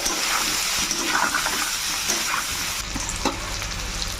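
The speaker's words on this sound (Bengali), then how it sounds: "স্বাদ অনুসারে লবণ, হাফ চামচের মতো গোলমরিচ গুঁড়ো, সব দিয়ে ভালো করে ভেজে নেব" Potatoes frying with salt and ground black pepper in a pan for Bengali aloor dum, a steady close sizzle with faint stirring scrapes throughout, no voices.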